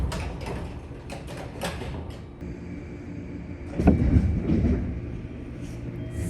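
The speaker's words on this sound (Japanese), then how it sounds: "列車は定刻で鹿児島中央駅を発車" A train pulling out of Kagoshima-Chuo Station, Japan: low rumble and clatter building as it moves off, with a sliding door thud and faint background tones.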